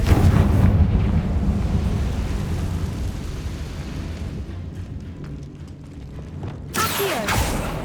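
A Confringo blasting spell in Hogwarts Legacy sets off a loud, rumbling explosion that roars and slowly decays across several seconds, ending with a sharp crackling burst; no talking.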